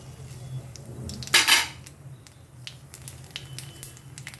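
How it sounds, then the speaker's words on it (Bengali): Black cumin seeds dropped into hot oil left from frying bata fish, a short burst of crackling sizzle that flares loudly and fades, with scattered small kitchen clinks around it. "ফোড়নে দিচ্ছি কালো জিরে"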